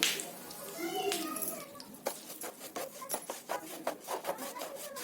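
Semolina roasts in ghee in a pan for pineapple sheera, a steady rasping scrape of stirring with quick spoon strokes against the pan, close and continuous, with faint background voices.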